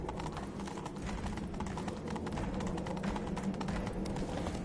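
Horse hooves clip-clopping at a steady rhythm in The Witcher 3 video game, moderately close, with faint game ambience underneath and no talk.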